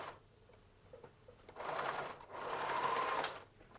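A sewing machine stitches a side pocket seam on joggers in two runs, a short burst followed by a longer steady whir, close and fairly quiet, with light handling between.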